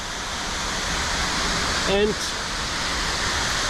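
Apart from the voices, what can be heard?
waterfall in Slovenia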